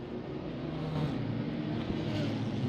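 A race car in a racing video game weaves down the long straight at Monza, its engine a steady, fairly quiet drone held at an even pitch throughout.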